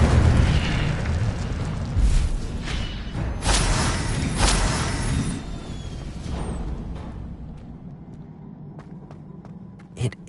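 An Incendio fire spell blast erupts in Hogwarts Legacy, a loud whooshing fiery burst with repeated booming flares over several seconds, then a fading crackle and a few small pops trailing off.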